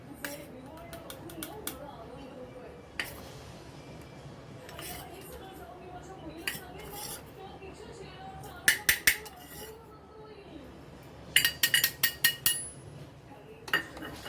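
A spoon stirs cornflour into coconut milk in a bowl, giving scattered light clinks and scraping taps against the dish, with quick clusters of sharper clinks, under a quiet speaking voice.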